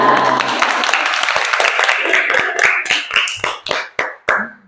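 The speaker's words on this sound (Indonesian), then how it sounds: "Tepuk tangan untuk kelompok 3" A classroom applauds group 3, a dense burst of close clapping from many hands that thins toward the end into a few separate, sharp claps, with some voices underneath.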